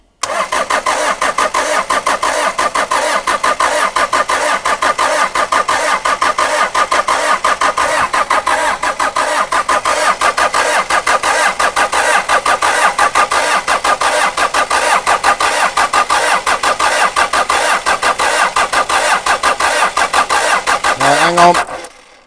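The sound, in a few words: pickup truck engine cranking and starting after glow-plug heating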